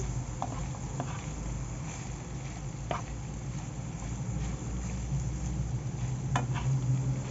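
Peppers and onions sauté in a pan, a low steady sizzle broken by scattered spoon taps and scrapes against the metal.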